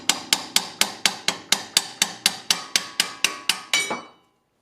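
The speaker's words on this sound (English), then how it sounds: "I always use a hammer. Just hit it off of the shock." A hammer strikes a Honda Prelude suspension fork to knock it off the shock, about fifteen sharp metallic blows in a steady rapid rhythm, close and loud, with the last hit ringing out briefly.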